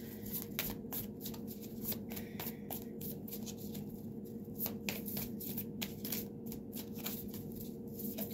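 Naked Heart tarot cards are shuffled close up in a steady run of soft riffling slaps and flicks that continues without a break and without talk.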